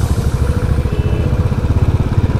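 A Royal Enfield Bullet motorcycle idles close by, its engine producing a loud, steady, low thumping beat with evenly spaced pulses and no voices.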